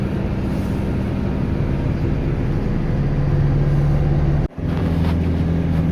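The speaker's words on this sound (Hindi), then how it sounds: "4x2 में है और सेकंड गियर में गाड़ी अच्छे से चल रही है ऊपर को" A Force Gurkha BS6 SUV in 4x2 and second gear climbs an incline with a loud, steady engine drone and low rumble that drops out briefly near the end and then returns.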